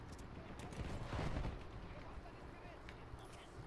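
Distant artillery fire in the World War I shooter Battlefield 1, heard as dull booming bursts and rumble over a constant noisy battlefield bed, with a heavier swell in the middle of the stretch.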